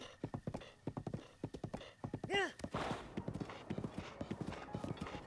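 Horse hooves in Breath of the Wild clip-clopping in a quick, even rhythm, broken once by a short whinny before the steady trotting picks up again.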